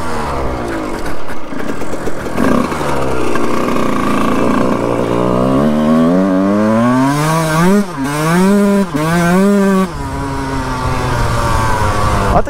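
A 1991 Honda CR 125 two-stroke motorcycle engine revs hard while ridden, climbing and falling in pitch through repeated throttle sweeps, loud and close throughout with no talk.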